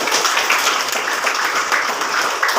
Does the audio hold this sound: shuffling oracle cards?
no